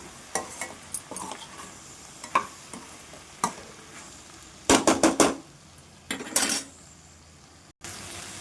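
Okra stir-fry with chilli powder being mixed in a pan, with a quick burst of close, loud spatula scrapes and clinks mid-way against a soft sizzle, then a few more knocks.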